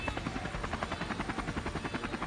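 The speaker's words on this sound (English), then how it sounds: "You can see a little wave to the helicopter over there from Lucas Baum." A helicopter hovers over a mountain bike stage race in Israel, its rotor thumping in a steady, rapid, continuous chop with a broad engine roar underneath, moderately loud throughout, with no voices.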